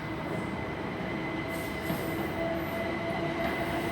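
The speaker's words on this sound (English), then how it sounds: "departing out here is a service to Newbury" A Class 387 electric train departs London Paddington, a steady close rumble of wheels on track with faint squealing and a soft electric whine, no talk.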